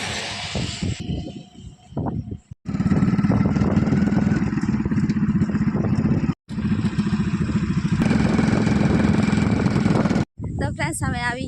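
A motorcycle stands idling near a highway, its low, steady engine drone running close and loud for several seconds with brief breaks, and a person talking over it.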